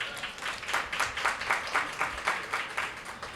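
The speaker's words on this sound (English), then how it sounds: "Give them a big round of applause." A small crowd at a family fun day at the National Children's Museum in downtown Washington, D.C. gives a round of applause, loose, rhythmic clapping with distinct pulses, moderately close.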